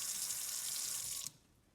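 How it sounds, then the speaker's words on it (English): Tap water runs steadily from a faucet into a sink, a close, even hiss that cuts off abruptly as the faucet is shut, leaving near silence. "you want to turn off the faucet."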